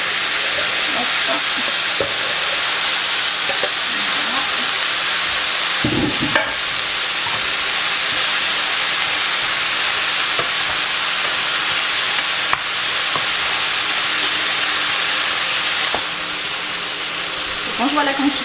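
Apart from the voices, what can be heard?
coarsely chopped tomatoes sizzling in a pan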